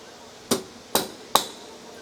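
A hammer strikes a nail three times in quick succession to mark a hole while mounting a porch shade blind, each blow a sharp, close metallic tap with a short ring.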